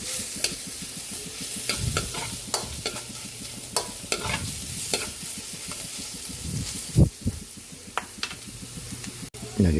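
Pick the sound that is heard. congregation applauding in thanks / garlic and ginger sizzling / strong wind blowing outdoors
garlic and ginger sizzling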